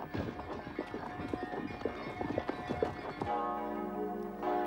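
Harnessed horses clip-clop along on the way to church in a village at Christmas, their hooves making a rapid, irregular clatter at moderate distance, followed by a steady humming tone.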